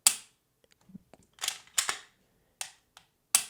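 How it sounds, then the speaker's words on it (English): Walther P99 AS pistol trigger pulled and reset on an unloaded gun, a series of sharp, close mechanical clicks and snaps spaced irregularly over a few seconds against silence. "So P99, long anti-stress shot, very short reset."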